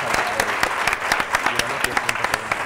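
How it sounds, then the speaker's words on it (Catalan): A studio audience at a Catalan TV word game show applauds steadily, with dense, even clapping throughout and no sharp peaks. "fem-li un aplaudiment, sisplau."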